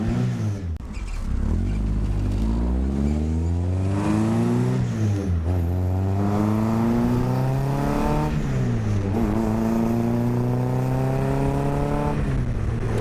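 MK Sportscars Raw Striker kit car pulling away on a cold test drive, its engine revving up through several gears in a rising, peppy rasp, each shift dropping the pitch before it climbs again, loud and close throughout.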